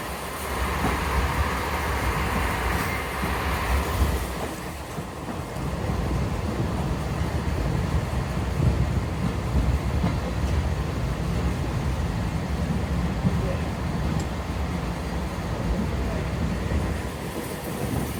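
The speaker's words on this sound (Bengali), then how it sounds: "আমাদের ট্রেনটি এখন ভাঙা জংশন প্রবেশ করছে।" A train rumbles steadily along the rails approaching Bhanga Junction, Bangladesh, for the whole stretch, a continuous low, heavy roar with a brief shift in tone early on.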